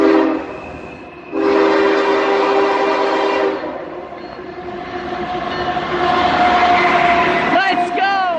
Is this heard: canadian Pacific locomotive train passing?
yes